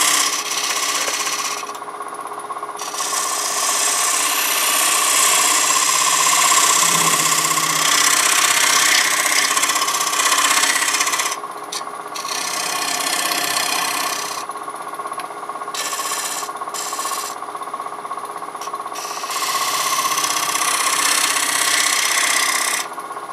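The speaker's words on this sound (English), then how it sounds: "So a small skew to make a nice sharp dovetail." A small skew chisel cuts a dovetail recess in wood spinning on a lathe, producing a loud, continuous scraping hiss over the lathe's steady hum, with brief breaks where the tool lifts away.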